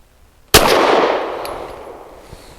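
A Walther PDP Match Steel Frame pistol fires a single 147 grain subsonic round: one sharp, close report followed by a fading ring, with quiet before and after.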